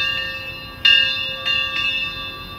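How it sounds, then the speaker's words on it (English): A bright metallic bell mounted on a steam traction engine rings several separate strokes with lingering tones, over the engine's steady low mechanical rumble. "We have a bell that Grandpa put on it"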